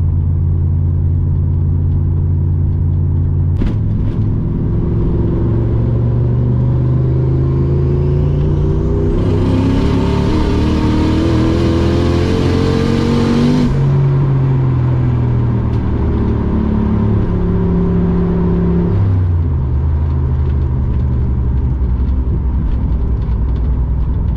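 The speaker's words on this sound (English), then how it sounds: "It's so loud with the exhaust dumped at the diff." Loud Holden drag car with its exhaust dumped at the differential revving up and down, a deep rumbling roar that rises, peaks and falls over a steady idle.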